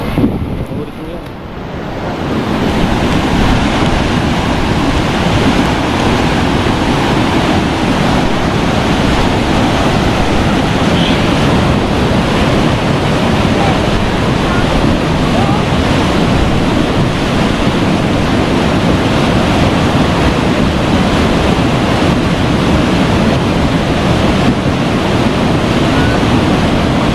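Strong water rushes over a dam as a loud, continuous roar that drowns out everything else, after a brief quieter moment at the start.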